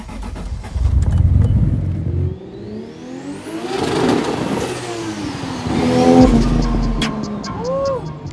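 A swapped car engine revs hard and loud several times, the pitch climbing and falling with each push, with some whirring and road noise between revs.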